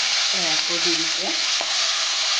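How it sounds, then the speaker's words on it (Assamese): Small fish fry in a pan with a dense, even, loud sizzle throughout, while faint tonal whistles or squeaks briefly rise above it near the start. "মাছখিনি মই এয়া গোটেইখিনি ভাজা হৈ গ'ল"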